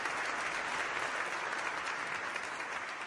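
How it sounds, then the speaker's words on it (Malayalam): A studio audience at a televised music show applauds continuously, a dense, even wash of clapping that carries on throughout at moderate level. "വലിയ കൈയടി കൊടുത്തേ"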